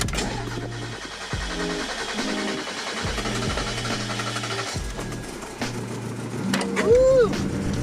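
A Mazda Miata engine cranks and fires, then settles into a close, steady idle with a pulsing rhythm, and a voice whoops near the end.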